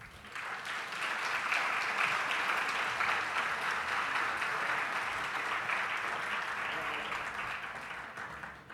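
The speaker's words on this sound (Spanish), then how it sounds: "pedir un aplauso para ellos" A conference audience at a science, technology and society congress applauds the UNED percussion ensemble, with sustained, even clapping from a large crowd that swells in quickly, holds for several seconds and fades slightly at the end.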